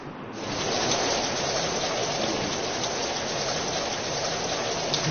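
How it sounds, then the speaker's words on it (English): Rainy-season downpour on Mount Fanjing, a dense steady hiss of rain on surfaces that holds even and fairly loud throughout, with no voices. "It's been raining for more than 10 days."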